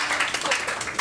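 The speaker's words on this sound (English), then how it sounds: "a warm round of applause" Audience applause at a comedy show, a dense patter of many hands clapping steadily throughout in an indoor room, with a faint voice briefly beneath it.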